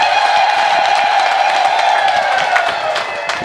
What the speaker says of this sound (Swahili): Makofi na vigelegele kwa mama.